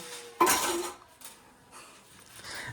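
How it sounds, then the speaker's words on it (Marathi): A large metal mixing bowl clanks loudly as it is pulled out, followed by a few softer metallic knocks and scrapes as it is handled in a home kitchen, with no voices. "आता ते आपण काढत आहोत. कटोरा. एवढा मोठा पातेला बघू शकता तुम्ही."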